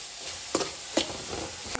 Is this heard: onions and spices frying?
yes